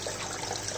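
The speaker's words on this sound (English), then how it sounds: "This is the other side waterfall." Water pours steadily down the waterfall of a paludarium fish tank, a close, continuous splashing rush with no other sounds.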